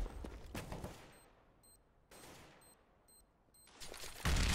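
Gunfire in a Counter-Strike esports match comes in several rapid bursts of shots separated by quieter gaps, with a final louder volley at the end.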